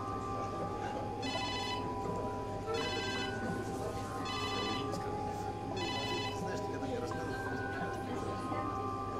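A telephone rings after a number is dialed in a detective melodrama, giving four evenly spaced trilling bursts over a constant background hum.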